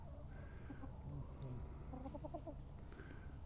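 Chickens clucking softly in quick repeated bursts at a dacha near Minsk, faint and somewhat distant over a steady outdoor background hum.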